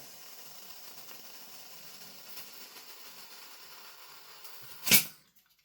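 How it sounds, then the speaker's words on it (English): Faint hiss of gas being squirted into a Cybergun CANiK SFX Rival gas blowback airsoft pistol magazine, ending in one short, loud burst of spraying gas up close. "we can squirt a bit of gas in here"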